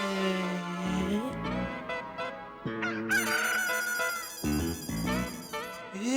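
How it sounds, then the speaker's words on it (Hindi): A rooster crows repeatedly over a tinny, electronic-sounding background, like a ringtone playing from a phone speaker, loud and continuous. "ये मुर्गे की आवाज तो इस फोन में से आ रही है।"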